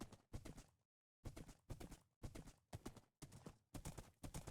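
Horse hooves clop in the video game Minecraft, a quick run of rhythmic steps with one short pause, dry and close but played quietly.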